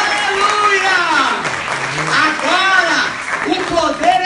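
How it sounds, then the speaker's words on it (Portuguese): Church audience clapping along behind a preacher who keeps talking loudly and expressively over it, the applause a steady textured wash under his voice. "Outra salva de palmas."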